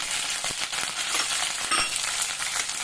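Curry leaves, garlic, ginger and green chillies are sautéed in hot oil, making a dense continuous sizzle broken by a few sharp stirring clicks and scrapes.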